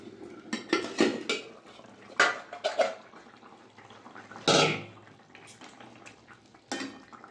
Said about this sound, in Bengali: ঢাকাটা খুলে নেব।